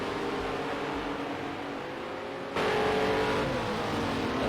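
Race car engines in a sim racing video game during an eSports championship final lap, a steady whining drone that steps up louder partway through as revs climb.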